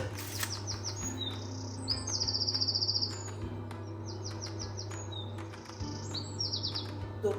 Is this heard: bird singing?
yes